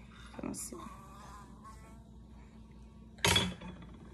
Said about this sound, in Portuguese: tem uma abelha enorme aqui, gente